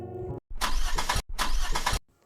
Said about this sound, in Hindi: शाम को काम से लौटते समय मान्या की गाड़ी खराब हो जाती है